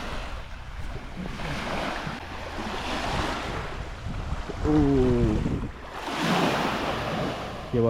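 Waves wash and surge on a large lake on a Canadian island, a continuous rushing roar with gusty wind buffeting the microphone and a brief tonal whine midway.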